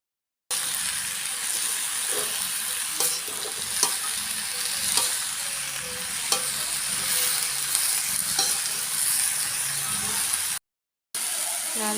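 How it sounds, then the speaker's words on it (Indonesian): Water spinach stir-fry with Liwa chili sizzles steadily in a hot pan as a utensil stirs and scrapes, with occasional clinks rising over the continuous frying hiss; the sound cuts out briefly near the end. "Lalu kita aduk-aduk ya teman-teman."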